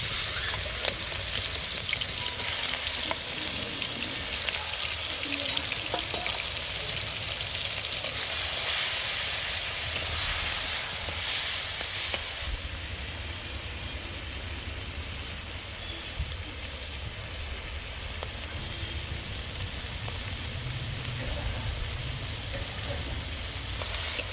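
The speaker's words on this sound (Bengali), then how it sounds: "চিংড়ি মাছ আমি নুন হলুদ মাখিয়ে রেখেছিলাম ভেজে নেবো" Prawns coated in salt and turmeric fry in hot mustard oil in a wok, giving a loud, continuous close sizzle with steady hiss throughout and no voices.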